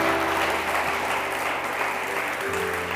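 A church congregation claps to praise the Lord in a continuous, even wash of applause at moderate level, with a low steady hum beneath and no speech over it.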